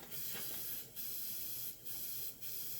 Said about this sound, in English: that's one of those little things that helps clear out your nozzle